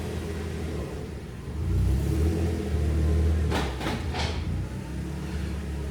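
A Mercedes 190E with a swapped M111 engine pulls away in first gear. A low engine rumble swells for a couple of seconds, then eases back, heard from inside the car with no talk.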